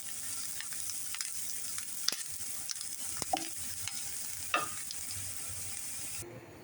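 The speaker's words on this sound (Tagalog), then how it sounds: "Ilagay ko na yung ginisa kong bawang, sibuyas, tsaka yung luya." Garlic, onion and ginger sautéing in a pan for Ilocano papaitan, a steady close sizzle with faint stirring clicks and scrapes throughout, no talking.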